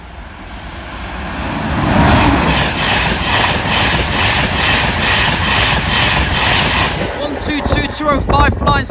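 Flying Scotsman steam locomotive passing the Grove Road level crossing with a loud, steady rumble and rhythmic chuffing, followed by several sharp whistle-like bursts and voices near the end.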